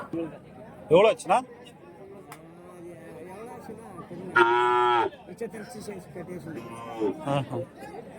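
Calves mooing at the Kundarapalli cattle market, a few short calls and one longer sustained bellow standing out over crowd chatter and people talking nearby.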